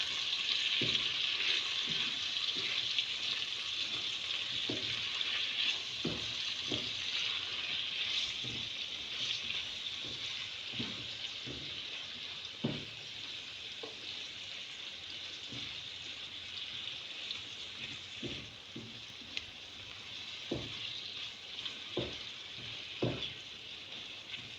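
Okra and potato sizzle steadily in a frying pan while a utensil stirs them, giving repeated soft scraping clicks over a constant close frying hiss, with no talking.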